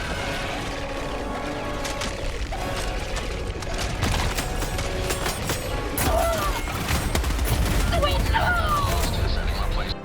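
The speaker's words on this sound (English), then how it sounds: "The MG206 heavy machine gun is devastating, but slow, unwieldy," MG206 heavy machine gun from Helldivers 2 fires in rapid, dense bursts, loud and close, amid mechanical clatter, explosions and battle noise, with a voice talking over the action.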